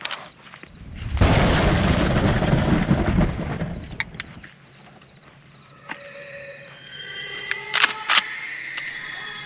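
A Kel-Tec KSG 12 gauge dual-tube bullpup pump shotgun fires one loud close blast outdoors, its boom decaying over a few seconds before quieter handling clicks and rustles follow.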